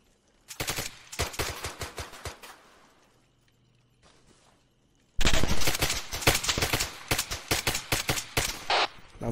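Sustained automatic gunfire and rapid shots in an Arma 3 military combat game, loud bursts for the first few seconds, a brief lull, then an even louder dense barrage of overlapping volleys to the end.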